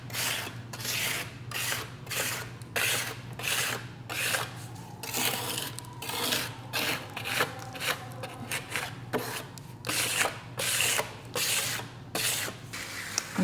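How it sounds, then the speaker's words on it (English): A steel trowel slides over a SkimStone concrete coating on a concrete veneer countertop or tabletop, making repeated rasping, rubbing strokes in a steady back-and-forth rhythm, close and moderately loud, with no talking. "just when you're sliding your trowel"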